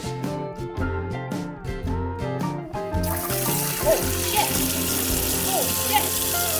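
Water runs and splashes from a leaking, broken sink faucet at a campsite, a steady flow that turns louder and more forceful partway through, under a short spoken exclamation and music.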